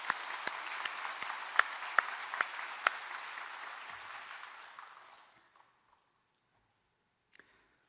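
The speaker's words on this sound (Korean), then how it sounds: "죄송하지만 한번 박수로 격려 한번 해주시면 감사하겠습니다." A church congregation at a Sunday afternoon service claps together in a sustained round of applause with a few sharp individual claps on top, fading away after about five seconds into near silence and a last faint click.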